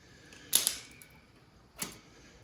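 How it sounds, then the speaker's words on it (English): Scissors snip off the loose end of a strap while a battery tender is installed on a 2001 Yamaha V Star 650 motorcycle. Two quiet, sharp clipping snaps sound close by, a second apart, with no talk. "If you have a scissors to cut off the end, otherwise a handy shears from the garden."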